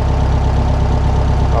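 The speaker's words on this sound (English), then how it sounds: "that's when I back off another half a turn and the motor will start to come back up. Hear it come up?" Air-cooled VW Beetle engine idling after a carburetor mixture adjustment, a loud, steady, low throbbing idle close by with no break.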